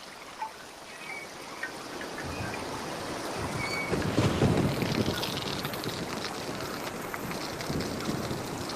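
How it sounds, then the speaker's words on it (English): Wind moving through trees outdoors, a steady broad rushing that swells louder midway and then settles back to a continuous rustling wash with no voices. "The same is true of the sounds of the wind in the trees."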